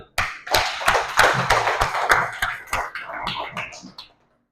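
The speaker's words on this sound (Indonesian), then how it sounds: "Tepuk tangan dulu." Rhythmic hand clapping by a group in a classroom, sharp claps in a quick patterned beat that falls into a rapid flurry before stopping.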